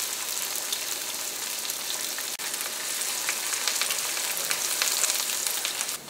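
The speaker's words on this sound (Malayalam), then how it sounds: "ഇഞ്ചിയും വെളുത്തുള്ളിയും ചുവന്നുള്ളിയൊക്കെയും എണ്ണയിൽ കിടന്ന് നന്നായിട്ട് മുരിഞ്ഞിട്ടുണ്ട്" Ginger, garlic, shallots, green chilli and curry leaves fry in hot oil, giving a steady, bright, crackling sizzle close by that carries on without pause and swells slightly toward the end.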